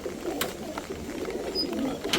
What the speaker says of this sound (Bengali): এখানে আমার একজোড়া সবজি কবুতর তো বৃষ্টির মধ্যে ভিডিওটা দিতেছি